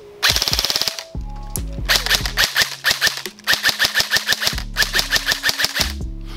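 An airsoft gun is fired in rapid bursts of sharp, close snapping shots, several quick volleys separated by short pauses.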